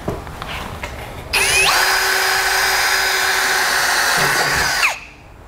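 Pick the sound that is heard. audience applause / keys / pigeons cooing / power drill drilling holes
power drill drilling holes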